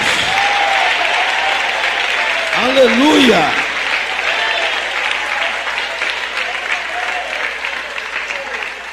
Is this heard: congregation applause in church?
yes